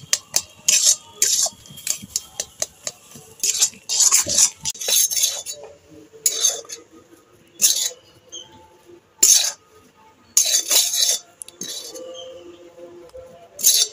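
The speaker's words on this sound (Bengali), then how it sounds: "এবার এইভাবে নাড়তে থাকবো আর একটা শক্ত ডো তৈরি করে নেব।" Stiff nikuti sweet dough is worked in a wok over low heat, with a spoon scraping and clanking against the metal in quick bursts of rhythmic strokes, close and fairly loud, with pauses between.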